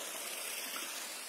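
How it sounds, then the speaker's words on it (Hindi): A small waterfall on a Soon Valley hillside pours steadily, heard as a faint, continuous watery rush with no other sounds. "ये इसकी एक वाटरफॉल है छोटी"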